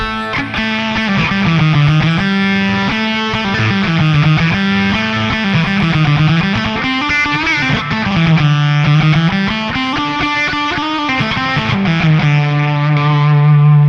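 An electric guitar played through an Electro-Harmonix Satisfaction Plus fuzz pedal, thick distortion, sustained notes sliding and bending in a continuous melodic line, loud and close with no talking.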